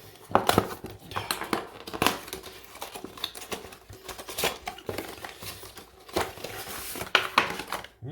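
Anti-theft tape peeled and torn from the packaging of a Philips Norelco OneBlade shaver, giving close, crinkly rips and plastic rustles in irregular bursts with no talking.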